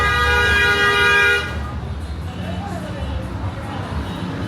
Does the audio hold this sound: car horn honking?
yes